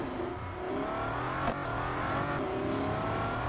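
A Bugatti Centodieci hypercar races in Real Racing 3, its engine droning and revving steadily at high pitch with a brief sharper accent midway, continuous and close with no talk.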